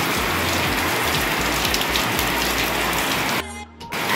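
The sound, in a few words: heavy downpour of rain outside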